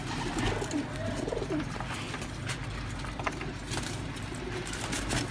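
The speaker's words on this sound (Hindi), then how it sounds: "बाज़ लाखा कबूतर आपको दिखा रहे हैं इस वक्त" Soft, repeated cooing from Baz Lakha pigeons offered for sale sits in a constant low ambient hum, with a few faint calls rising and fading over a few seconds.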